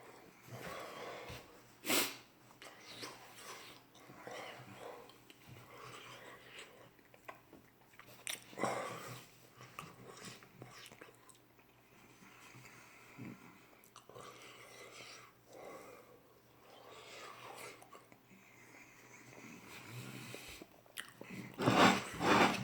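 Chili chocolate being bitten and chewed close to the mic, with wet crunching and mouth sounds in uneven bursts and a few sniffs, growing busier toward the end.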